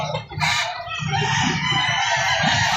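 Chickens and roosters at a poultry market in Lipa City, Batangas, crowing and clucking steadily and fairly loud, a dense flock chorus with no talk.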